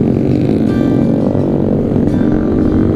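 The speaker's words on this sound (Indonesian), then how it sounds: "Bunyi motornya pada geruduk-geruduk." Motorcycles rumble loudly and close by at night, a continuous, heavy, low engine drone with no breaks and no talk.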